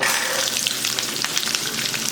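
Loud, dense sizzling of halved small onions frying in hot oil, crackling continuously from close up with no talking.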